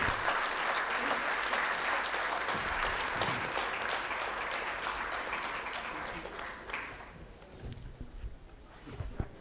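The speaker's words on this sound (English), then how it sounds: "Can we have a round of applause," An audience at a book launch applauds with dense, sustained clapping that gradually thins out and fades, leaving a few scattered claps, with faint voices underneath.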